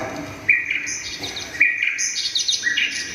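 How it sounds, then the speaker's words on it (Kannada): Several bright bird chirps and twittering calls come in repeated bursts, clear and fairly close, over a quiet outdoor background by a river at sunset. "ಹಕ್ಕಿಗಳ ಚಿಲಿಪಿಲಿ ನಾದ"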